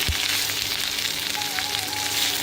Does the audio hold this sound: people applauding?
no